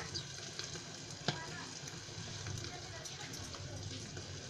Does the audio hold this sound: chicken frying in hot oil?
yes